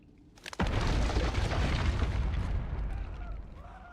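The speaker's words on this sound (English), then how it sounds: "What Explosion! Perhaps we ought to investigate." A big explosion in Dragon's Dogma 2, a sudden heavy boom after a brief quiet moment that rolls on as a loud rumble and slowly fades.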